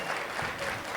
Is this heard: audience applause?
yes